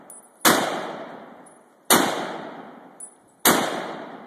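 Three evenly spaced gunshots outdoors, each a sharp loud crack with a long decaying echo, and a faint metallic tick from a hit target between the second and third shots.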